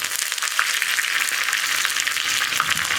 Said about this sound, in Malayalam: കടുക് പൊട്ടി തുടങ്ങുമ്പോൾ നമുക്കിതിലേക്ക് വറ്റൽമുളകും, ഞാനൊരു 3 വറ്റൽമുളക് എടുത്തിട്ടുണ്ട്. അതുപോലെ തന്നെ കറിവേപ്പിലയും ചേർക്കാം.